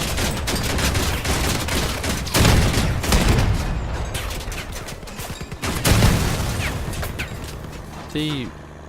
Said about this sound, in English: The rapiers are not even firing. Oh yes they are.